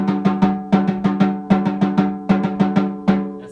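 A snare drum plays a steady pattern of triplet groups separated by eighth-note rests, each stroke crisp and ringing, loud and close with no talk over it.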